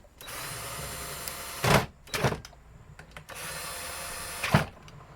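A hand tool tightens a pressure switch on a Jaguar X-Type automatic 5-speed valve body, with a few short close ratcheting bursts over a quiet workshop hum.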